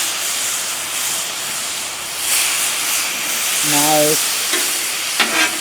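A ribeye steak with caramelized onions and mushrooms cooking on an outdoor grill gives a loud, steady sizzle and hiss throughout. A voice briefly speaks near the end.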